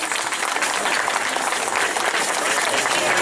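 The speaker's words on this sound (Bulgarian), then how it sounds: "Аплодисменти за него" Spectators at the Shipka 2013 motor racing event applaud a prize winner at the awards ceremony, a dense, continuous burst of clapping filling the whole moment at a steady, loud level, with some voices mixed in.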